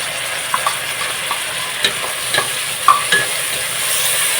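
Tomato and onion cooking in a pan for Andhra horse gram rasam (ulava charu), giving a soft steady hiss with scattered light clicks and scraping taps from stirring, close and moderately quiet, with no talking.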